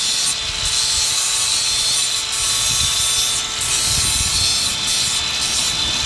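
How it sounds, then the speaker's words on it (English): A flap disc grinds a metal starter recoil cover for a 1982 Honda 185s ATC trike in a steady, loud abrasive hiss with a faint whine, pressure easing briefly a few times. "just going to trim it up there now with a flap disc"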